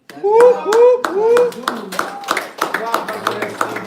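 A few people clap during a casual music listening session, sharp irregular handclaps following a voice singing a drawn-out tone, with talking and chatter overlapping the claps.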